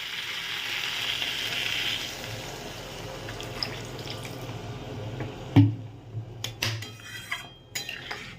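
Water poured into a hot pan of fish cooked with cumin paste sets off a soft hissing sizzle, followed by scattered clinks of a utensil against the pan.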